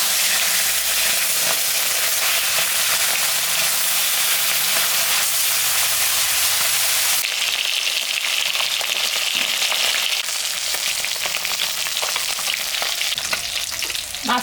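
Pieces of rui and mrigal fish frying in hot oil, a loud, close, continuous crackling sizzle that dips slightly midway, then keeps spitting steadily.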